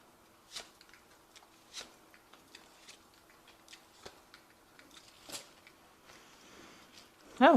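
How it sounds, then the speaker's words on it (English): A tarot deck is shuffled quietly in a series of soft riffling clicks and taps, close and faint, with a louder scrape at the end. "and I have shuffled the deck as well."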